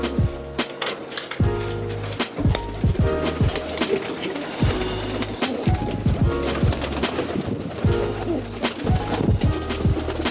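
Racing Homer and Birmingham Roller pigeons coo steadily nearby over a busy background of soft knocks, wing flutters and clattering movement.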